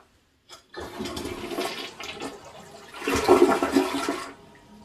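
A toilet flushes nearby, a rushing swirl of water that surges louder partway through, then begins to drain away.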